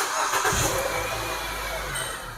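A car with its check engine light on is cranked with the starter and catches, then settles into a loud, steady idle close by.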